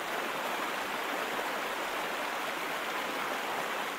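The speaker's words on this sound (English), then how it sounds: "So gushing water that's flowing through these rocks, it's making a lot of noise." Steady rushing of stream water tumbling over rocks in Coorg, a constant broad hiss with no pauses, close and fairly loud.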